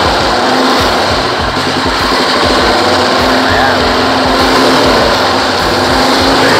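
A Royal Enfield Himalayan motorcycle in a custom black-ops style idles loudly close by, its engine keeping up a steady, rapid rattling putter from start to finish with no one speaking over it.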